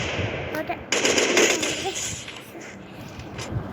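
Video-game gunfire, bursts of rapid automatic shots over a continuous background of game noise, with a voice talking over the top.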